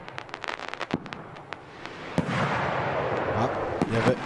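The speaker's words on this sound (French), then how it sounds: "Les marrons d'air, c'est les pétards en fait, c'est de la pure charge en fait qui explose" Fireworks with aerial salute firecrackers going off in a string of sharp, loud bangs and cracks, one close heavy blast midway followed by dense crackling and rumbling explosions, with people talking in the background.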